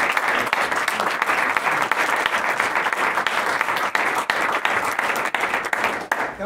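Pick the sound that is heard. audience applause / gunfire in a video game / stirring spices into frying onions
audience applause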